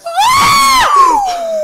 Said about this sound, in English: That was a girl screaming for me.